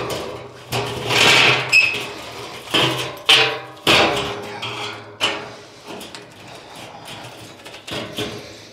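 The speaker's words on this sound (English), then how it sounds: "get the old sledge out. That'll take care of it." A sledgehammer strikes a metal burn barrel several times at an uneven pace, each blow a loud, close clang that rings and fades before the next.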